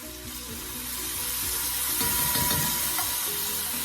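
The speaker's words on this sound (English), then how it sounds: "Give butter bean a stir into your saltfish" Butter beans stirred into curry saltfish frying in a pot: a steady close sizzle with scraping, knocking spoon strokes and wet shuffling of food, growing slightly louder midway.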